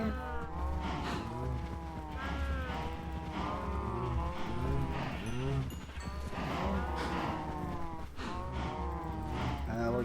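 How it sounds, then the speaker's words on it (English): Cows in the Minecraft video game moo repeatedly, several overlapping low calls running continuously close up with no pause. "And I will get some cows."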